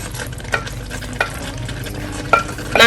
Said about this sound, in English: So now I've got the shredded meat here, so I'm just going to add that in there.